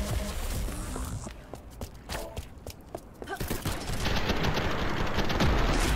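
Rapid SMG bursts in the shooter game SPRAWL, clustered rattling volleys mixed with quick footsteps and movement, building into a dense continuous stretch of action toward the end.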